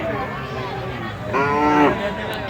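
A cow moos at a large village cattle market in Brahmanbaria, one drawn-out harmonic call rising over steady crowd murmur and a brief earlier lowing, fairly close.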